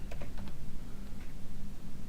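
A computer keyboard tapped in a few quick clicks at the start, then lighter scattered presses over a low background hum, close and fairly soft.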